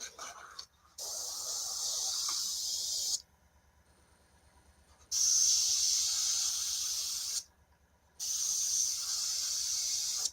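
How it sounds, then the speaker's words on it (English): Cheap Chinese airbrush spraying thick paint, three loud steady hissing bursts of a few seconds each, separated by short pauses. "So let's dunk that in the airbrush. And this is a cheapy Chinese airbrush."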